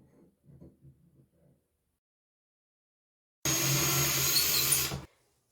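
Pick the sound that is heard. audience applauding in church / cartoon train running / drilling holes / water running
drilling holes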